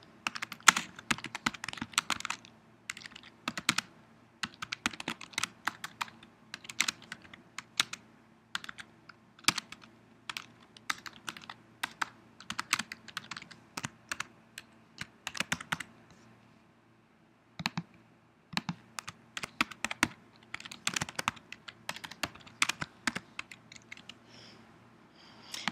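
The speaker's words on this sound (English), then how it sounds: "I'm just going to type in some text." Steady typing on a computer keyboard, quick irregular bursts of close clicky keystrokes with a brief pause midway, quiet and alone.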